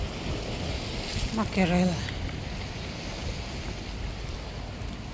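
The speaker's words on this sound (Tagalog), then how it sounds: "So, ayan, medyo maalon siya." Choppy ocean waves along a rocky Bermuda shore, heard as a steady broad wash with wind noise on the microphone, while a person speaks briefly over it.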